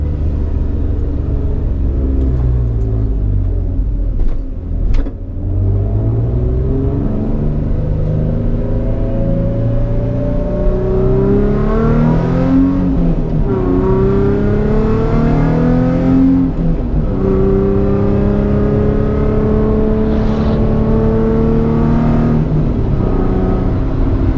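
A car with 121,000 miles on semi-worn unbranded tyres laps the Nürburgring, its engine loud and close throughout, revving up and down through the gears with rising and falling pitch sweeps and no talk.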